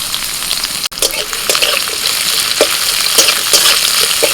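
Chopped onion hits hot mustard oil in a wok with a loud, close sizzle, bursts of crackling and spatter as it is stirred, continuous for a few seconds with no talk.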